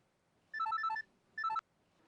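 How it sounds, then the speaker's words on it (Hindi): A phone rings with an electronic ringtone: one longer melodic burst of bright beeping tones, a brief pause, then a shorter second burst, clear and close in a quiet room. "नो, डॉक्टर साक्षी का फोन है।"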